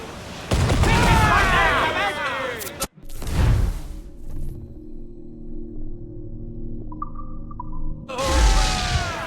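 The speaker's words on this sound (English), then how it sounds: "Fire what cannons you will, and land a few strikes if you must" Naval cannon fire in Assassin's Creed IV Black Flag: a sharp, loud boom breaks in early, with a second blast near the end, while music and a speaking voice run through much of the battle scene.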